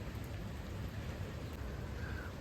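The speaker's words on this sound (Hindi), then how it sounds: "बारिश लगी हुई है" Steady rain pours down on a hillside village in the Garhwal hills of Uttarakhand, a dense unbroken hiss with no voices.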